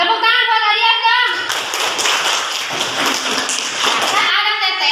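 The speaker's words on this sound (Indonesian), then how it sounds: "Tepuk tangan buat Adias dong." Children clap their hands in a classroom, a dense burst of patter lasting about three seconds between stretches of talk, close and fairly loud.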